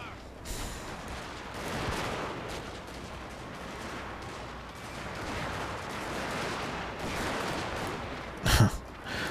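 Infantry gunfire in a Total War Shogun 2 battle: a dense, continuous wash of distant musket volleys and battle noise with scattered sharper cracks, and one loud close burst near the end.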